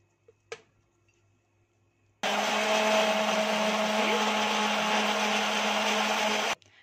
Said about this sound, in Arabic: حطه كده في الخلاط.